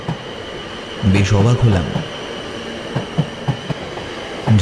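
A train rumbling into a station in an animated horror film, with clanking wheel and rail knocks and a metallic screech, while a voice speaks over it.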